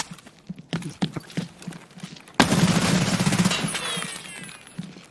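Video game gunfire bursts out in a loud, dense volley of rapid shots that tails off slowly, after a stretch of softer, irregular clicks and thuds.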